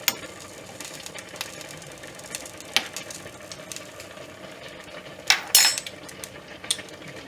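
A spoon scrapes and clinks against a pot while spaghetti sauce is stirred, scattered soft knocks with a few sharper metallic clatters near the end, close and without talk.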